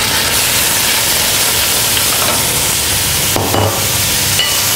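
Meat sears in very hot pork lard in a pot for goulash, a loud continuous broadband sizzle and hiss with brief spattering bursts, close and without talk.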